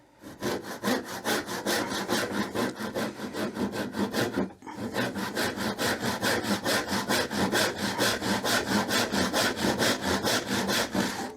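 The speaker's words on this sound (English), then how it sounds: "what I'm doing on this side is just pinching and following down the piece with the saw just to keep that pressure where I want it" A hand saw rip cutting a wooden board with steady, rhythmic back-and-forth rasping strokes, close and loud, pausing once briefly before resuming, with no talking.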